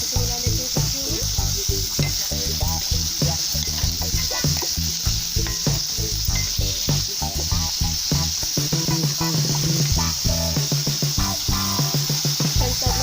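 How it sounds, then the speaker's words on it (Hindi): Vegetables fry in a kadai for Chings masala noodles, giving a loud, continuous close sizzle broken by frequent rhythmic scraping and stirring. "इन सबको भी अच्छे से मैं फ्राई कर रही हूँ कढ़ाई में।"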